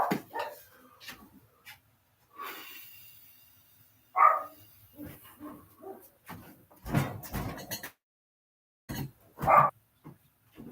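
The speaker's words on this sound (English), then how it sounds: "I don't know what he's barking at" Several short dog barks scattered across a quiet indoor space, spaced irregularly with pauses between, moderately close.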